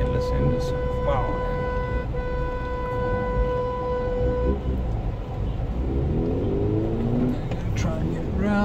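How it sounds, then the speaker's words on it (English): Congested road traffic rumbles nearby while car horns blare, one long sustained honk over the first half and shorter toots later, with engines revving through the jam. "This traffic is causing endless."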